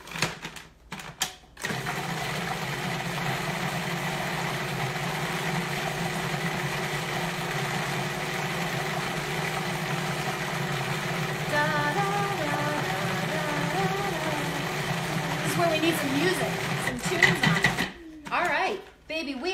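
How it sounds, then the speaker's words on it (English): A food processor runs steadily while blending chocolate mousse made with cocoa powder, a loud continuous motor whir filling the clip before cutting off near the end. "let me show you this in the food processor"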